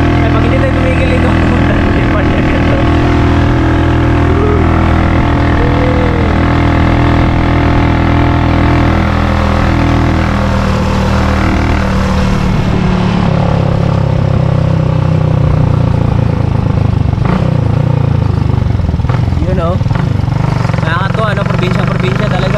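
A motorcycle ridden along a provincial highway gives a constant, loud engine drone mixed with wind rush and rattling, with no break from start to finish.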